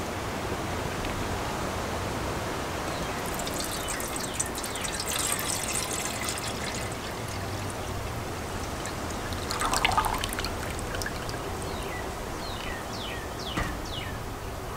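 Water from a Nalgene bottle splashes and trickles steadily into a Texsport Kangaroo mess kit pot, with a few faint clinks and drips scattered through the quiet, continuous pour.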